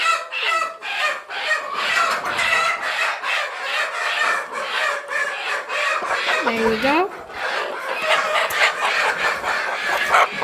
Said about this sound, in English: That's the chicken.